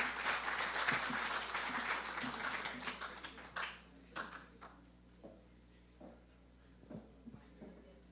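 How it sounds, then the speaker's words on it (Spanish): Loud applause from a crowd for several seconds, then thinning to a few scattered claps before dying away. "Lo recibimos con un fuerte aplauso."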